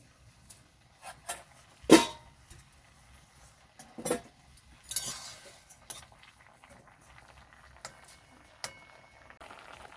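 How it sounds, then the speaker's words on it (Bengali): A metal lid lifted off a pot of boiled carrots, giving a sharp clink followed by a few softer scattered knocks and rattles of cookware, fairly quiet overall with no talking. "এখন আমি চাপাটা খুলে দেখে নেব গাজরগুলো সিদ্ধ হয়েছে কিনা।"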